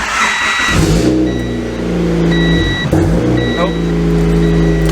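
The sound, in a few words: boosted Honda engine revving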